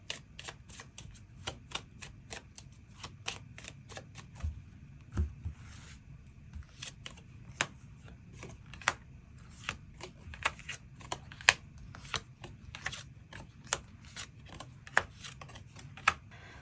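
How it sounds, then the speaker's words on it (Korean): Tarot cards being shuffled and drawn, a run of crisp, evenly spaced card snaps and flicks, close and fairly quiet over a faint background hum, with no talk. "추가 카드 뽑아보도록"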